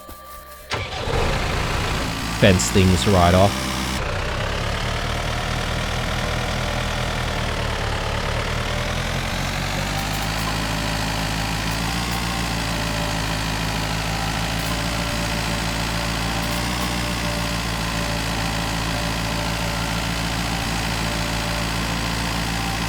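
A tractor engine in the farming game Dinkum cranks and starts with a short burst, then settles into a steady, continuous idle hum that runs unchanged to the end, with a brief spoken phrase near the start.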